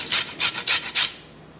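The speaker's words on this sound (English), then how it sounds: "Into the strawberries, I'm going to zest about a teaspoon of lime zest just to add a little extra flavor." A lime being zested with a zester over strawberries, giving four quick rasping strokes in a steady rhythm, close and crisp, followed by a brief quiet tail.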